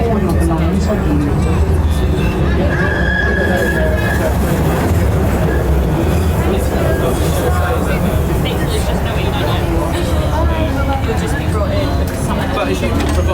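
A London light-rail train bound for Lewisham rumbles steadily along the track, a loud continuous rolling roar with a brief tonal whine partway through and no break.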